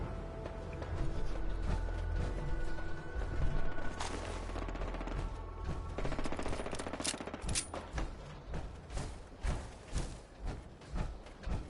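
Bursts of rapid distant gunfire crackle in the video game Fallout 4, over an ongoing mechanical rumble, with sharp shots repeating irregularly, some sounding farther off.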